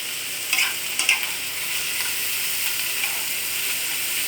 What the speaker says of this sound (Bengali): এবার এটাকে ভালো করে নুন হলুদটাকে আমি মিশিয়ে দিচ্ছি লাউয়ের খোসা আর পেঁয়াজের সাথে।